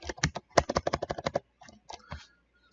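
Rapid typing on a computer keyboard, a quick run of distinct close clicks followed by a brief pause and a few sparser keystrokes.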